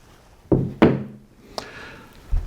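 Single-acting toggle clamp worked by hand: two sharp, close metallic clunks a quarter second apart, then a lighter click and a soft final thud, all clear and nearby with no talk.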